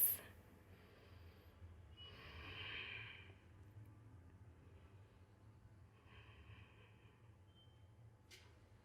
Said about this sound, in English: 5 long deep breaths.